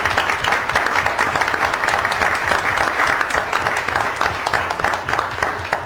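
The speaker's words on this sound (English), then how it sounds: "maybe we could give them a round of applause" A crowd at a school board meeting gives a round of applause for elementary school principals, steady, fairly loud clapping with distinct individual claps throughout, with no speech over it.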